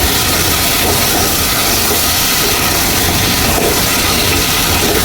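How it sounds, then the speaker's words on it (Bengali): Vegetables with drumstick, potato and ginger paste being sautéed in a pan, a dense, loud continuous sizzle and hiss filling the whole stretch with no voices. "এভাবেই আমি কষিয়ে নেব কয়েক মিনিট"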